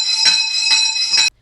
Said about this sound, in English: When the exam starts, a bell will ring.